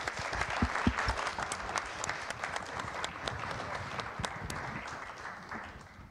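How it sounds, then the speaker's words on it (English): Audience applause after a talk at a policy event on Bank Secrecy Act reform, steady dense clapping from a room of listeners lasting about six seconds with a slight fade at the end. "Please join me in a round of applause."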